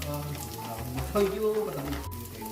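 Onions sautéing with salt in a pan for a spiced savory oats breakfast give a steady sizzle beneath tonal, voice-like sounds, with a brief louder swell in the middle.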